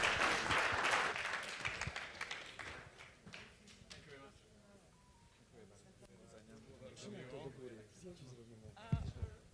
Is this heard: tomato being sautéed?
no